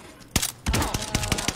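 Rapid gunfire in a shooter video game: a quick burst of several sharp, close shots in a steady rhythm, with no talk.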